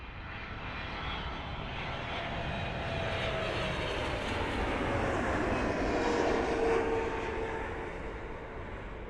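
An Etihad airliner at Toronto Pearson Airport gives off a broad, steady engine roar that slowly builds and holds for several seconds at a distance, with no voices.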